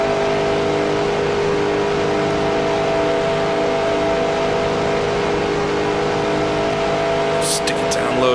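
A NASCAR race car engine at Daytona in the NASCAR Racing 2003 video game drones loudly and steadily at high revs, sustained without a break under a speaking voice.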